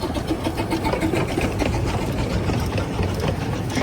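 Steam locomotive Northern Rock on the Ravenglass and Eskdale heritage railway, heard from an open coach right behind the engine: a loud, steady, rumbling engine roar with continuous mechanical clatter throughout.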